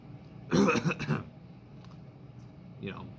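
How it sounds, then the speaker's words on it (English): A close, raspy throat clearing, one rough burst lasting about half a second, followed by quieter breathing and a faint second rasp. "something like that where you're just trying to clear your throat"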